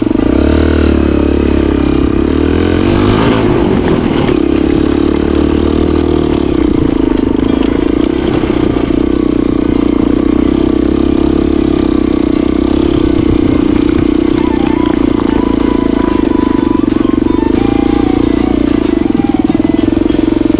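A motorcycle engine runs steadily throughout while being ridden along a blocked, congested route, a loud continuous drone with some clatter and no speech over it.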